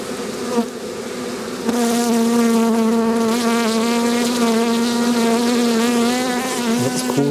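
Honey bees in an Australian bee yard hive produce a close, loud, sustained buzzing hum with wavering pitch, a dense swarm drone that swells slightly after the first couple of seconds and continues steadily.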